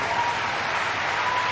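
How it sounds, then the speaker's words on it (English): A badminton arena crowd applauds steadily and densely at the Birmingham 2022 Commonwealth Games quarterfinal after a rally, a continuous wash of clapping with no break. "Applauded her opponent after the rally."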